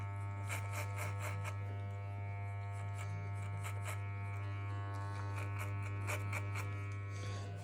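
Electric hair clippers buzz steadily throughout while cutting a fade haircut, a constant close hum with light rhythmic scraping as the blade passes through hair.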